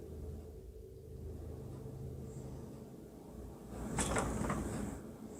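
Knocking during a ghost investigation: a quiet room hum, then a short, faint cluster of sharp knocks toward the end.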